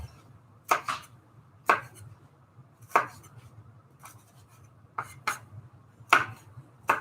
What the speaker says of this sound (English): when I say chop it, just chop it a little. Make little pieces.